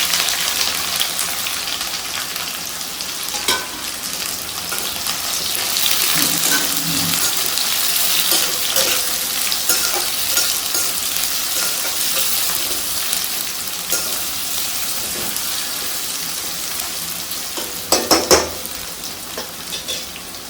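Two large onions, sliced lengthwise, fry in a pan, a constant close sizzle with stirring scrapes and a short cluster of clattering utensil knocks near the end.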